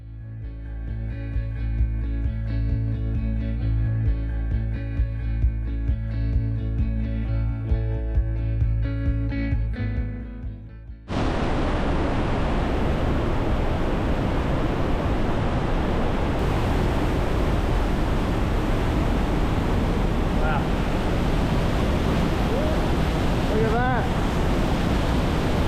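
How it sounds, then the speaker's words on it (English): Waterfalls in Switzerland's Lauterbrunnen Valley roar as a broad, constant rushing wash of falling water that starts abruptly after a stretch of music and continues loud and unbroken. "let's go check out these waterfalls"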